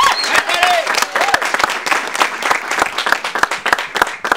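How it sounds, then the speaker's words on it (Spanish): A studio audience on a television show claps for the first guest, loud and close, with crisp irregular claps and some cheering voices and whoops over the top. "un aplauso para nuestro primer invitado"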